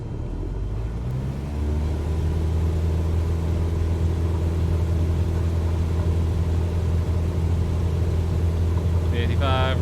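In Microsoft Flight Simulator 2020, a light aircraft engine climbs to full power, a steady loud drone with rising harmonics during a touch-and-go, while a voice speaks briefly near the end.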